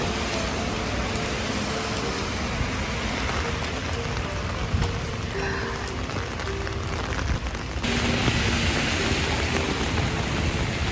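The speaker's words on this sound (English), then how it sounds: "Unbelievable. Pouring rain." Steady pouring rain on a springtime day in Paris, a dense, continuous hiss that stays loud and even throughout, with faint traffic underneath and no voices.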